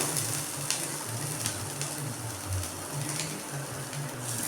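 Cut tomatoes sautéing in oil in a pan, giving a steady, fairly quiet sizzle with faint crackles and occasional soft stirring clicks throughout.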